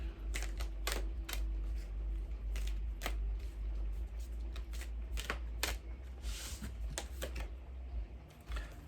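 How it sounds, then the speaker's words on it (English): A deck of tarot cards is shuffled steadily and close, with crisp, rapid flicks and riffles repeating in bursts through the whole passage and no voices. "I'll shuffle these a little more."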